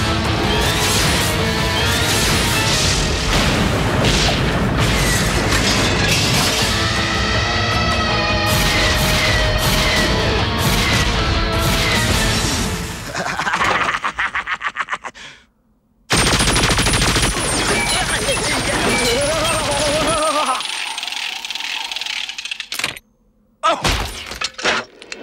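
Rapid weapon fire rattles through a Beast Wars cartoon battle, loud dense bursts with crashes and shattering debris, then a short break and more blasts with explosive impacts.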